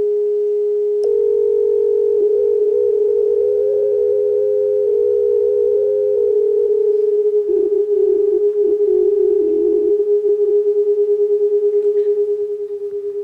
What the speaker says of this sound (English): The two speakers are putting out slightly different frequencies.